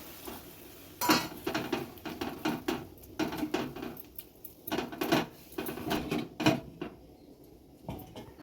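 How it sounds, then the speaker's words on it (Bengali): Ash gourd and mung dal in a cooking pot, with water added and a lid placed on top, producing a close series of sharp metallic clanks and clinks from utensils and the pot lid. "আর একটুখানি জল দিয়ে আমি ঢাকা দিয়ে দেবো এটা"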